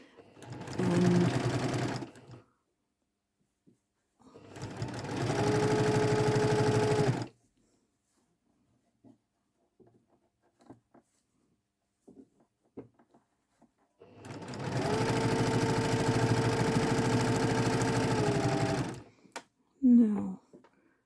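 A sewing machine stitches fabric in three long, steady bursts separated by quiet pauses, loud and close, with brief handling noises between runs.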